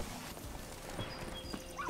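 Horse hooves clop at a walk in The Witcher 3: Wild Hunt, a fantasy video game, in a swampy bog area, with a brief whinny, moderately quiet over a low ambient game background.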